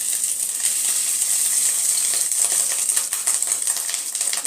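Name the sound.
fish roe frying in hot mustard oil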